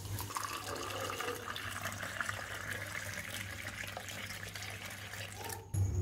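Cold milk poured from above into a cup of coffee with four or five ice cubes, a steady liquid stream running for about six seconds with a brief clatter near the end.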